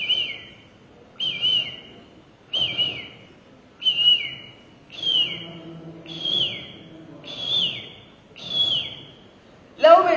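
A human voice imitates morning birdsong at a Kerala school arts festival mimicry contest: eight evenly spaced whistled calls, each a bright note falling away, ending in a sharper burst.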